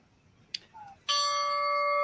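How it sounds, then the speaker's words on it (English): The paddock bell at Saratoga racecourse rings once, loud and close, its bright metallic tone sustaining steadily after a few brief knocks and a short tone just before it. "another part of the Saratoga tradition, the ringing of the bell"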